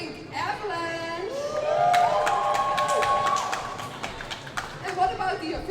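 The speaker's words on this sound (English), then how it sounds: "Are there also people cheering for Pink Avalanche?" A Harbour Cup game crowd cheers for Prague's Pink Avalanche against Rotterdam's Harbour Honeys. Whoops and shouts rise to a full roar around two seconds in, hold steady, then thin out into scattered calls and claps.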